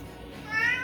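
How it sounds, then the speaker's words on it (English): A pet cat fusses for its food behind a cook in a home kitchen, giving a rising, drawn-out meow near the end over a soft background hum with a radio playing. "I have a kitty cat behind me fussing, telling me that he wants his food too"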